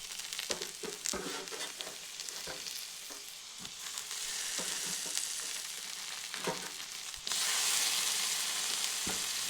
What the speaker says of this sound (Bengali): তো দিয়ে এই সব কিছু আরও কিছুক্ষণ ভেজে নেব মশলাগুলির সঙ্গে টমেটোর সুদ্ধা